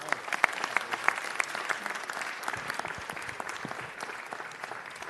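Los Angeles City Hall council meeting audience applauding to welcome a speaker, dense steady clapping from a room full of people, close and sustained for several seconds.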